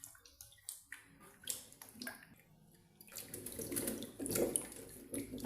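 Cassava gets rinsed in fresh water. A few scattered drips and light knocks give way to a fuller, steady sloshing wash that runs for the rest of the stretch, close and quiet.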